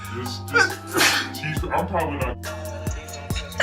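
A person sneezing repeatedly while dyeing their hair at home, with sharp bursts spaced through a noisy room, mixed with loud talk and laughter from others nearby.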